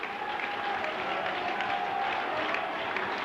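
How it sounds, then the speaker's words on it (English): A packed cricket stadium crowd at a one-day match between India and Pakistan roars and applauds in a sustained, dense wall of cheering that holds steady throughout. "The crowd on their feet, complete eruption of emotion here."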